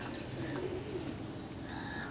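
Delhi pigeons at a pigeon show coo in soft, low repeated calls over a steady background hum, with no talk.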